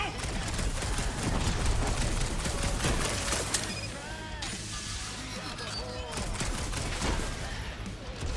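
Rapid video-game gunfire from Guardians of the Galaxy, a dense, sustained fusillade of shots with bursts and booms layered over battle effects and occasional voices.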